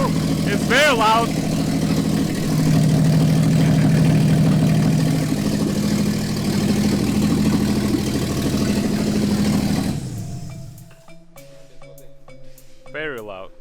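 A 2016 Jaguar XJ with its exhaust and mufflers missing runs loudly, a deep rumbling idle that continues for about ten seconds before cutting out, with a voice speaking over it.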